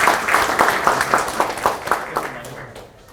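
Audience applause welcoming guests at a party council meeting in Pohang, with a voice speaking over the clapping in rhythmic bursts that slowly fade toward the end.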